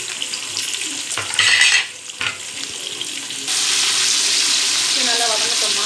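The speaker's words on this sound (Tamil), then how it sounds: "பச்சை மிளகா, வெங்காயத்தை தள்ளிடலாமா. இதை நல்லா வதக்கணும்" Green chilies and onions are tipped into hot oil and sautéed for a bachelor-style biryani, with a burst of loud sizzling and clattering that settles into a strong, even frying hiss.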